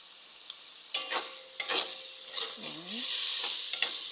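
Mung beans sauté in a pan with a soft sizzle and intermittent stirring clatter, fairly quiet and close, while a voice speaks briefly.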